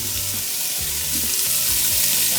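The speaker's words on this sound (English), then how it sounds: "fry the bacon. Don't worry, it sticks a little bit." Sliced bacon frying on an electric stove, a loud continuous crackling sizzle close by, with low stirring scrapes mixed in.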